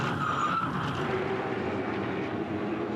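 A Repco Supercars Championship race car with steering damage slides off the road, giving a steady, fairly faint skid and engine roar over broad track noise, with no talk.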